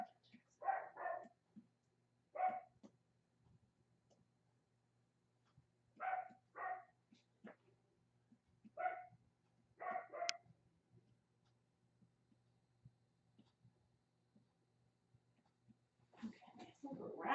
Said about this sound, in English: He was supposed to not have the dog barking.